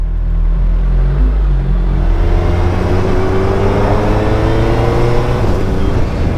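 A 2021 Suzuki Hayabusa motorcycle being ridden on the road with a quick shifter, its engine a loud, close, steady drone that climbs in pitch as it accelerates through the gears, with wind rushing past and no talking.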